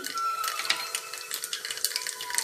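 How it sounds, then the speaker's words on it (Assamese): Black mustard seeds splutter in hot refined oil while masala khichdi is being cooked: a close, rapid stream of dense crackling pops and snaps, with no talk. "ইয়াতে ক'লা সৰিয়হখিনি ঢালি দিম আৰু সৰিয়হখিনি ফুটিব দিম"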